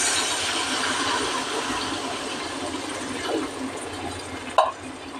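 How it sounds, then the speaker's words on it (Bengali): Water poured into a pan of spiced vegetables, a steady broadband rushing pour that runs continuously at close range, ending with a brief clatter near the end. "এবার এর মধ্যে জল দিয়ে দেবো পরিমাণ মতো"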